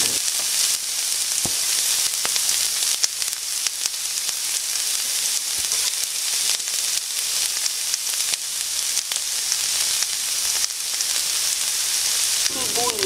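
Ginger fries in hot oil in a heated pan, giving a loud, dense, continuous sizzle with crackles throughout.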